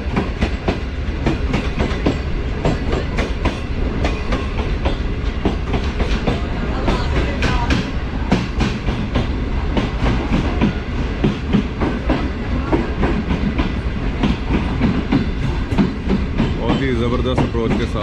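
The Green Line express pulls into the Rohri Junction platform. Steady rumbling and clickety-clack from the wheels run loudly throughout, with a faint voice in the background.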